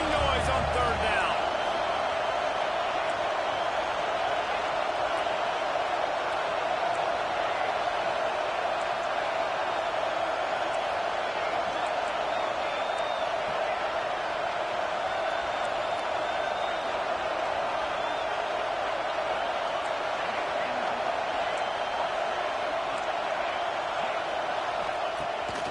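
Stadium crowd noise from the NCAA 26 college football video game on a third down, Kansas State at Georgia. A steady, dense roar holds throughout with a sustained tonal hum, under commentary.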